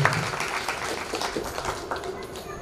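Listeners at a Hindu Balaji katha gathering applaud during the religious discourse. The clapping is a continuous, crowded patter of many hands, heard at a moderate distance and fairly soft.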